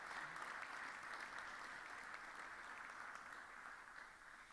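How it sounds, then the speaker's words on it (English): Sustained applause from an audience at a formal anniversary ceremony honoring an absent award recipient, steady and fairly distant throughout, clapping alone with no talk. "we will send him a big round of applause"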